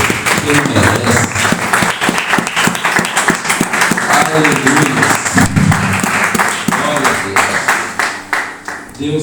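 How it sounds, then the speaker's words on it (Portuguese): A church congregation applauds during an evangelical service. The clapping is loud and sustained, with voices calling out over it, and it tapers off near the end. "Aplauda o nome do Senhor, por favor."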